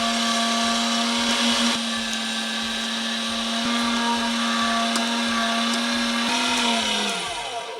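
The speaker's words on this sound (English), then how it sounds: "Now I'm gonna do my first grind through this larger grind plate." An electric meat grinder pushing meat and fat for breakfast sausage through a coarse chili plate, a loud steady motor whine with rhythmic chugging underneath that winds down at the end.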